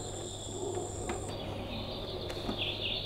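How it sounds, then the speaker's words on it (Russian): A baby swing's built-in nature sound plays crickets chirping steadily in a quiet night ambience, a high continuous trill over a faint low hum. "Звуки ночи, скажем так, когда сверчки, вот это вот все такое, фоновый шум,"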